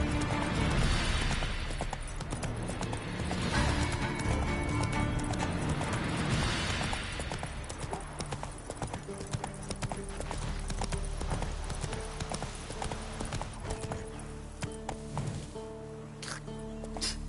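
Roach, the horse in The Witcher 3, gallops with a rapid, continuous clatter of hooves that stays loud and close, with brief crashes and a busy game soundscape around it.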